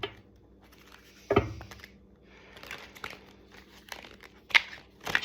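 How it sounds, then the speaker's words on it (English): A new deck of oracle cards being shuffled by hand, soft papery riffles and crinkles broken by a louder card burst early on and sharp flicks later, close and without speech. "let's get a good shuffle in for Sag"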